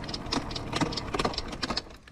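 A fuel-injected KTM motorcycle engine sputters and misfires, giving quiet, irregular clattering pulses with uneven gaps over about two seconds.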